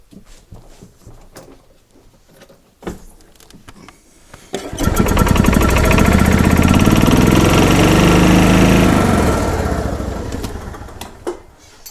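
A gas 2004 Club Car Precedent golf cart engine cranking without starting: a loud, steady mechanical churning that runs several seconds, rises, then winds down, heard close and alone.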